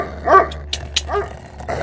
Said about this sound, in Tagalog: Nagsikahulan naman ng mga alagang aso ng matanda.